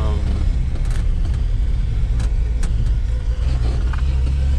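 A Datsun car under way, its engine a low steady rumble with road and tire noise on worn, flat-spotted tires, heard from inside the cabin with a few faint knocks and rattles.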